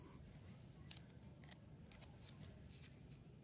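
Scissors trimming paper during a fingerpainting craft give a few faint, sharp snips spaced irregularly over a quiet, low background hum.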